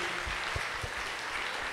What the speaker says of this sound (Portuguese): Essas duas irmãs que merecem nossos aplausos também, irmãos.